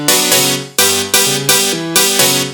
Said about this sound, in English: Then all together, it will sound like this.